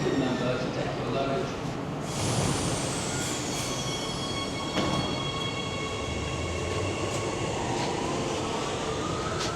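Inside a Warsaw metro train heading to Centrum, a continuous loud rumble of wheels on rails with rising whining tones and a long squeal, steady throughout the ride.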